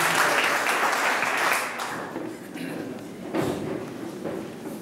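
At a Brazilian graduation ceremony the crowd claps for the Lord, a loud burst of applause that fades after about two seconds and then swells briefly again, with thumps and some voices underneath.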